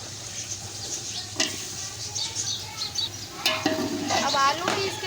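Potatoes tipped into beef keema frying in a pan, giving a steady sizzle with scraping stirs and a few clanks of a utensil against the pot, close by under light background noise.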